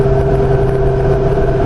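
A 2015 Jeep Wrangler JK Unlimited Rubicon with a swapped LS3 V8 and 6L80 automatic transmission drives along, its engine droning loud and steady in a constant even hum, with no voices.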